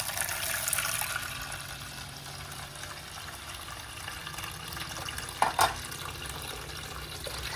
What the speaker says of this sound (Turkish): Soğuk su ekliyorum.